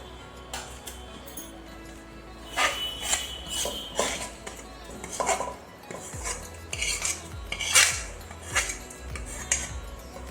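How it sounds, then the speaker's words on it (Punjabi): Utensils clink and scrape against metal as roasted masala is transferred into a pressure cooker, with irregular knocks and taps of varying loudness throughout, close by and with no voices. "ਮਸਾਲੇ ਨੂੰ ਮੈਂ ਕੁੱਕਰ ਦੇ ਵਿੱਚ ਪਾ ਦਵਾਂਗੀ"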